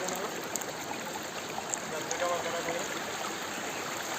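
Water flows over rocks behind Hadagarh Dam in Keonjhar, a steady, even rush of stream noise that fills the scene throughout, with no clear voices over it.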